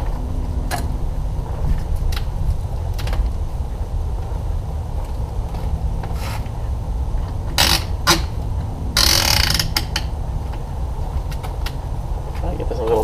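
A bike rack strap on a hitch-mounted tray rack is ratcheted tight, with a run of sharp clicking pawl bursts and louder grinding clicks over a low rumbling background, heard close up.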